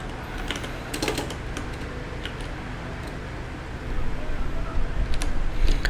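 Keys clatter on a computer keyboard in scattered taps and short bursts while a command is entered during an Arch Linux install, over a low steady hum.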